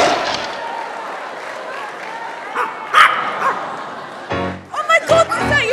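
Several dogs bark and yip on a talent show stage amid crowd noise and voices, sharp bursts clustering near the end over a busy background.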